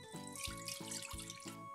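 Water is poured quietly into a bowl to start lahmacun dough. A soft splashing trickle runs under a faint rhythmic background tone.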